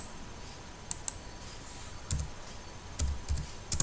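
A computer keyboard clacks as the git init command is typed into a terminal, with a few sparse, quiet clicks and short bursts of keystrokes against a faint hum.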